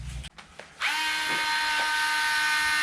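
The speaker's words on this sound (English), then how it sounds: "So much easier with power tools." A power drill whirs up to a steady high-pitched whine after a few clicks and handling noises, running continuously close by, while working on a Traxxas Slash RC car conversion.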